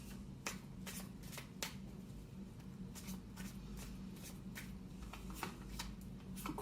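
Tarot cards being shuffled and drawn during a reading, giving a steady run of soft papery riffles and flicks with sharp snaps, quiet and close throughout.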